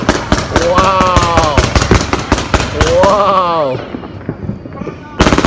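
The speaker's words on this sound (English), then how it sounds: "Some big cakes coming up. We got Tiger Family Life Fireworks Show." Fireworks cakes fire in a rapid series of sharp cracking bursts at a Fourth of July fireworks show, loud and close, while a person exclaims over them.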